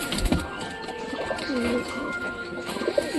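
Satin pigeons coo softly up close in a few repeated rolling calls, with faint rustling and background noise around them.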